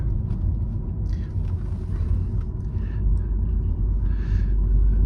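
Inside a 2003 BMW on the move, a low, steady engine and road rumble fills the cabin, with faint murmured speech at moments.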